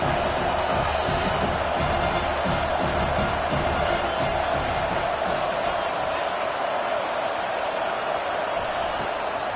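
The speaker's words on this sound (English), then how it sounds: "Listen to this crowd just shaking the girders of this place, trying to help their defense." A large stadium crowd at a football game roars continuously in a dense, loud wall of cheering and shouting that barely varies.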